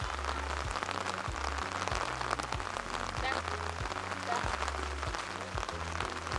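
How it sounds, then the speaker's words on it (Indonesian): Steady rain pours down outdoors at Borobudur Temple, a dense, even hiss of drops on surfaces lasting throughout, with a low rhythmic hum of music or an engine underneath. "Iyalah, hujan Bray"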